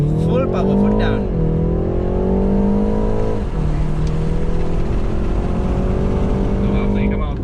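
A BMW G20 330i accelerates at full power in sport mode with manual shifting, its engine note climbing loudly and steadily, then dropping at an upshift and rising again, under the hum of the cabin.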